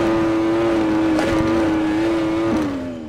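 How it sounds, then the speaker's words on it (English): Yamaha R1M crossbeam engine in the RIDE 4 racing game at Portimao, a steady high-pitched whine holding one tone, dipping briefly once near the end, loud and continuous without talk. "I love the crossbeam engine."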